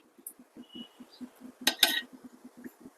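A kadai set down on a stove, oil going in for a jowar sangati and field-bean curry: one sharp metallic clank of the pan against the burner, amid faint low clicks and background noise.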